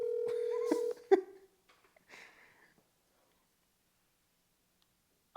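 A phone is dialed to call someone, with a steady beeping tone followed by several short dialing tones in quick succession, then a few faint clicks and near-silence.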